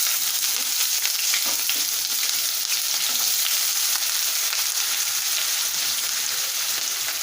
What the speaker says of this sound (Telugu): ఇప్పుడు ఆయిల్ వేడైపోయింది కదా బాగా, ఇందులోకి ఆనియన్స్